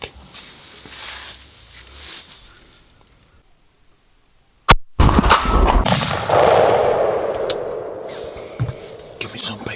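One sharp, loud shotgun shot fired at a turkey during a Georgia spring hunt, bursting out after quiet whispered talk and followed by rustling and commotion close by.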